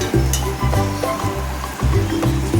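Food sizzles while frying in a pan during cooking, the crackle running over a steady low droning hum that pulses in short repeated swells.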